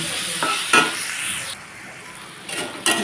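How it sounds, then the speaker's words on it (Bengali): Spiced egg curry ingredients fry in a pan while being stirred, a close sizzling hiss broken by scraping strokes and a few sharp metallic knocks of the spoon against the pan. "বেশ কিছুক্ষণ সময় নিয়ে এটাকে সুন্দর করে ভাজতে হবে"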